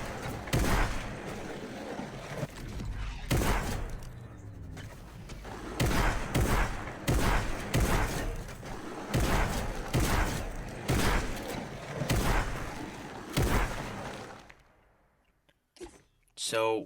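Rapid bursts of gunfire from the Fortnite video game as targets are shot, with clustered, repeated sharp cracks across the whole stretch before it fades near the end.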